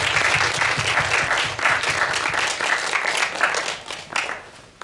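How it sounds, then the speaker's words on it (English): An audience at a community cafe cultural event gives performers another round of clapping, close and sustained, rising and falling slightly and thinning near the end, with no talk. "We get one more round of applause for them."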